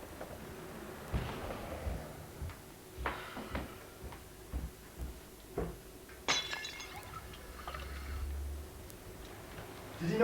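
Glass clinks several times as a drinking glass is picked up and filled with water indoors, a few sharp, fairly quiet knocks and chinks scattered over a low room hum, with faint voices in the background.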